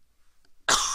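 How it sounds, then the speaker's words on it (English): A single sharp cough from someone with a lingering cough bursts out close and loud after near silence, with no talk around it. "I got a cough that just doesn't want to see me go away"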